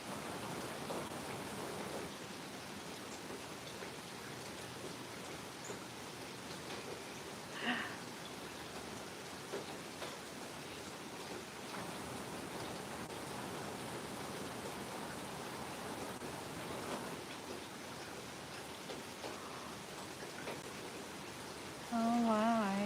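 Steady rain falling outdoors around trees full of cardinals, a continuous even hiss throughout with a brief louder noise near the end.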